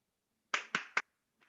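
Three sharp hand claps in quick succession, close and crisp against silence, followed by a fainter fourth clap after a short pause.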